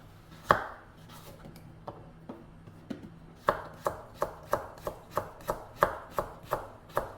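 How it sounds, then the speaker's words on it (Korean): A knife thinly slices carrot on a cutting board, with sparse cuts at first, then a quick, even run of sharp chops, close and clear. "얇게 썰어줍니다."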